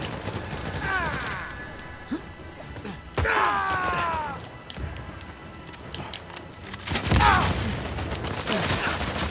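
Gunfire in Uncharted 4 multiplayer comes as bursts of shots and impacts in a busy game mix, with sweeping effect sounds and thuds spread through the clip.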